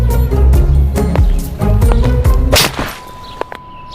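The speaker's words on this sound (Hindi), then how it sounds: "आपने आते ही थप्पड़ क्यों चिपका दिया?" A slap to a boy's cheek in an animated story: one sharp, loud crack cutting through busy background music, followed by a thin, steady ringing tone as the music drops away.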